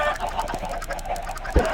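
Chickens crammed into a tight pen in a blocky sandbox video game cluck in short overlapping bursts, with one louder low thump near the end, and no talking.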